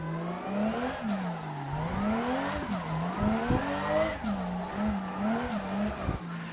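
Car tyres spinning and squealing while drifting in the racing game Assetto Corsa, a steady engine drone rising and falling with throttle over a continuous loud tyre squeal, close and alone with no talk.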